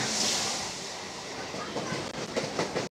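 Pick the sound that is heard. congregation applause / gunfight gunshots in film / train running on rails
train running on rails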